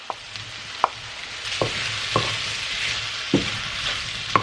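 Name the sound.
dumpling ingredients frying in a pan until toasty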